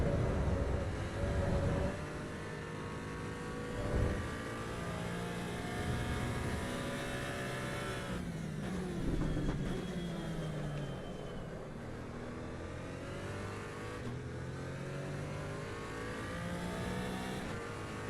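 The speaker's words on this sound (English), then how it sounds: "Got to get this car to a point where it'll accelerate out like that." A race car in Assetto Corsa Evo powering out of a corner, its engine note climbing and shifting through gears, loud and continuous with rising and falling revs.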